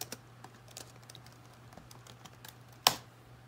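Someone types on a retro computer keyboard, a quiet, close run of uneven clicking keystrokes with one sharper key hit near the end.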